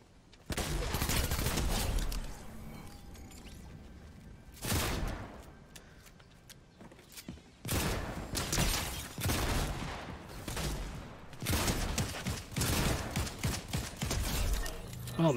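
Repeated bursts of gunshots in the video game Fortnite, coming in several loud clusters separated by quieter gaps, with sharp cracks and rattling impacts, some close and punchy, over faint ambient game sound.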